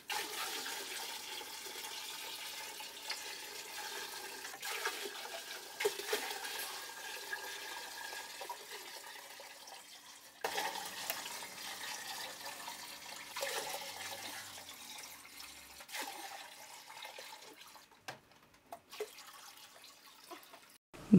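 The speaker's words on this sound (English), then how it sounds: "it's time to fill the tank back up" Tap water pouring steadily into a freshly cleaned aquarium after a partial water change, a continuous faint hiss and splash with a few small clunks and a brief break midway.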